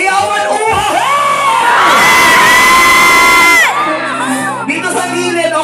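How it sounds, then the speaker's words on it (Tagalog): A large crowd at a nighttime event cheers for the mayor: loud, sustained shouting and whooping with children's voices swells, then drops away into scattered calls. "Isang hiyawan"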